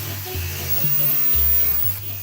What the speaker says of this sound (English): I left myself a little extra so I could hang on to it while I'm carving it with the disc sander